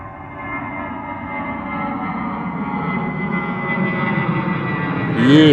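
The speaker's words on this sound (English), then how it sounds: "Lovely departure there from the Vueling 320. Mega noise, must be heavy." A Vueling Airbus A320 departs London Gatwick at full engine power, a loud, steady jet roar that swells gradually and grows louder toward the end.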